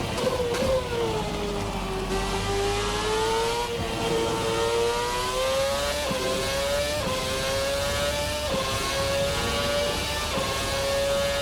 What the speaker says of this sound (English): that was pretty much full revs there from that V8